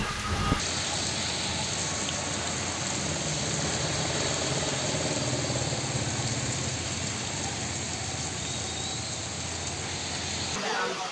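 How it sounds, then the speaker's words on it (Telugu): Heavy rain pouring down steadily outdoors, a dense continuous hiss at constant loudness throughout, with no break. "అగ చూడుర్రి మన కాడ వాన ఎట్లా కొట్టిందో."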